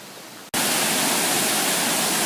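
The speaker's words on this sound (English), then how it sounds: "which is this fast-moving body of water down here." A loud, dense roar of fast-moving water rushes past an old canal lock, starting abruptly after a brief quieter moment and then holding steady and close.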